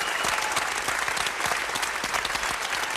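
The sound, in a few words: audience applause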